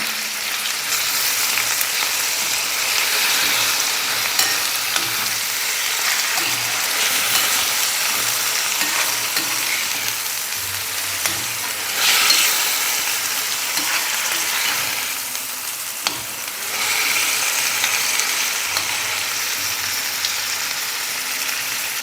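Cut chicken pieces sizzle loudly in a pan for a simple chicken curry, a continuous close hiss with occasional bursts and scraping as they are stirred, no voices.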